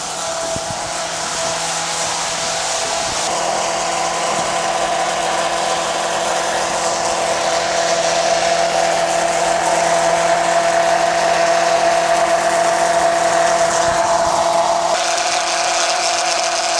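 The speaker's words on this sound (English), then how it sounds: "I'm going to turn it on. And now it's pumping out all my transmission fluid." Fluid pump draining transmission fluid from a vehicle through a hose, a steady continuous motor whine with a constant drone, close and loud throughout.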